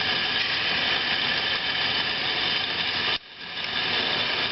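Mechanical whir and steady gear drone of an 11 x 18 inch Hardinge HLV-BK precision tool room lathe carriage, loud and continuous, with an abrupt drop at the direction change before the hum builds back up.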